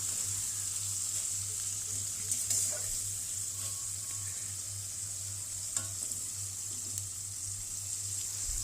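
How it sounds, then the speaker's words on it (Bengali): Chicken pieces fry and get stirred in a pot until lightly golden brown, giving a soft continuous sizzle with a low steady hum beneath and occasional light scrapes. "হালকা হালকা গোল্ডেন ব্রাউন হবে সেই পর্যন্ত ভেজে নেব। হালকাভাবে নাড়িয়ে নেব আমি।"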